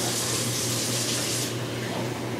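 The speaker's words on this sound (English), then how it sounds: "I'm gonna add in 1 cup of cold water." Cold water poured into a cooking pot, a loud steady gushing splash that changes tone partway through as the pot fills.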